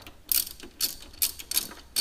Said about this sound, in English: So I'm just going to tighten this up right now.